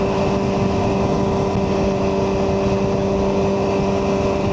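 A 2024 BMW M1000R motorcycle with an Akrapovic header and BT tune holds a steady, loud engine drone throughout, an even hum with no talking over it.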